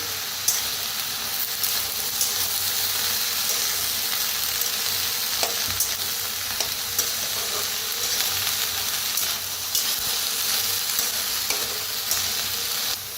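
Steady sizzling of mixed vegetables in a hot pan over a wood-fired clay stove, with scraping and stirring strokes throughout, loud and close, no voices.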